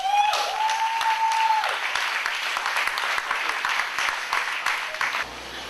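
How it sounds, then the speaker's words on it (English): An audience at a forum event gives a steady round of applause, even dense clapping filling the room from start to finish, with a sustained musical tone briefly sounding at the start. "let's give a round of applause for our marketing maverick"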